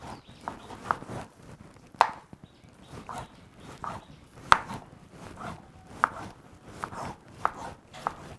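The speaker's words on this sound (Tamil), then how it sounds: "அடுத்தது நம்ம தக்காளி கட் பண்ணிக்கலாம்." A knife chops tomatoes on a board with a slow, irregular rhythm of close, crisp cuts, about one every half second, with a quiet gap in between.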